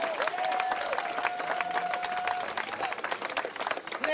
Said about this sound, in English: Give Stephen a round of applause, please.